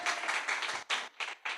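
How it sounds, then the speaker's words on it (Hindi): A church congregation breaks into loud, enthusiastic clapping in several dense bursts separated by brief pauses, filling the room close up with no voices over it. "एक बार जोरदार ताली बजाकर धन्यवाद करो परमेश्वर का।"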